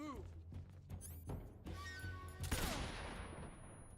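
Gunfire in the Metal Gear Solid 3 video game as a guard is shot: several quick sharp shots and impact thuds in close succession, then a washy tail of game noise, all fairly faint.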